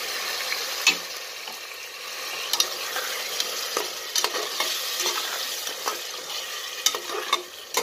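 Prawns, tomato, onion and biryani masala fry together in a pan, a continuous bright sizzle up close with repeated scraping stirs and occasional sharp clicks of the spatula.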